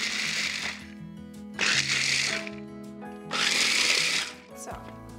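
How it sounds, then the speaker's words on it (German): Small electric chopper briefly chopping walnuts in a home kitchen, heard as three loud whirring bursts separated by short pauses, with a low motor hum between them. "Dafür schnappe ich mir hier die Walnüsse und werde die nur ganz kurz einmal häckseln."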